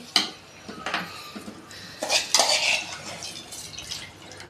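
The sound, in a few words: washed rice added to boiling water for egg biryani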